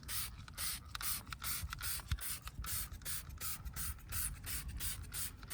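Autobrite Very Cherry non-acid wheel cleaner is sprayed onto car wheels from a trigger bottle in a quick run of about a dozen sharp, hissing spritzes, close and rhythmic, with no talking.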